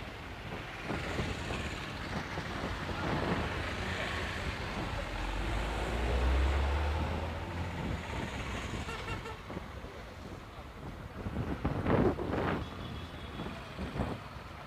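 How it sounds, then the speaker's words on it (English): Strong wind buffets the microphone on a city street in Mombasa, Kenya, a constant rushing roar with gusty low thumps, mixed with faint traffic and street noise. "Very, very windy."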